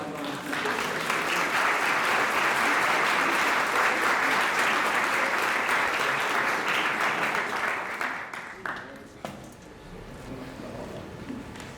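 Audience applause at a live event in Barrancabermeja, dense and steady clapping from a crowd for about eight seconds, then thinning out to scattered claps and fading.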